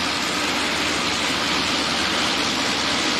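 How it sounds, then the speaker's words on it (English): The port engine of a propeller aircraft at Lukla Airport runs down, a loud, dense, steady engine roar filling the whole stretch close by. "port engine is nearly switched off"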